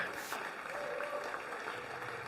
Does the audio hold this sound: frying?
no